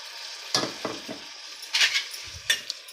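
Tomato puree with coriander powder, turmeric and oil stirred in a pan while making tomato rice: a metal spoon scrapes and clinks against the pan in several short strokes over a soft background sizzle.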